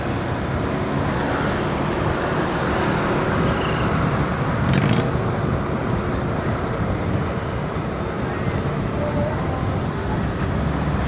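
Highway patrol police cars move through night traffic on a city road in Karawang, heard as a steady, loud wash of road and engine noise with wind rumble and no distinct passing events.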